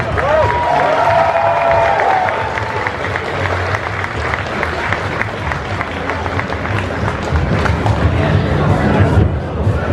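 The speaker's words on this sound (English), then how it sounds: "Give her a big hand of applause." Audience applause and cheering for a cosplayer at a cosplay contest, a dense, steady wash of clapping lasting the whole stretch, with crowd noise and a few voices mixed in.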